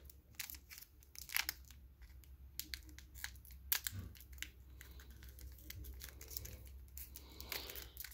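Scissors snip and crunch through plastic packaging on a brand-new English Magic: The Gathering Portal Three Kingdoms two-player starter set, with faint, close clicks and crinkles spread irregularly over several seconds.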